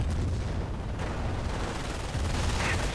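Machine gun fire from a World War II strategy game battle, a dense continuous rumble of distant gunfire and low booms running steadily throughout, with no clear separate shots.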